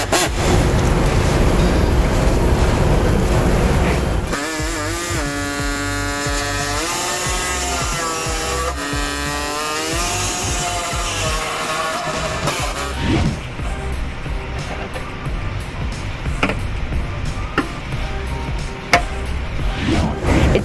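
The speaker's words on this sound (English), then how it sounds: "I'm going to use a air saw to go ahead and enlarge the holes that we need to on the Chevy Cruze" A pneumatic air saw enlarges access holes in the steel frame of a 2011 Chevy Cruze during trailer hitch installation, giving a loud, continuous buzzing whine that rises and falls in pitch as the blade cuts, with no talk.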